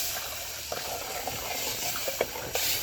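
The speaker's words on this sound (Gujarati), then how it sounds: "તમે જોઈ શકો છો મરચું નાખી રહ્યા છે" Chili added to hot oil in a pan on a village clay stove, giving a soft continuous sizzle with a few small pops and crackles, close and fairly quiet.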